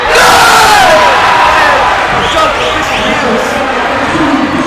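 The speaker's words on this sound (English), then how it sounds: "And the crowd is loving it." Loud crowd roaring and cheering in a gym during a boys varsity high school basketball game between Kirkwood and Lindbergh, a sustained dense wall of voices with a commentator talking over it.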